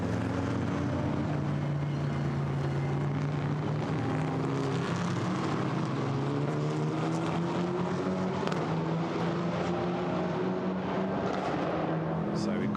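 GT4 race cars at Monza approaching the Variante Roggia chicane, steady engine drone with rising and falling pitch as several cars pass, under continuous race commentary.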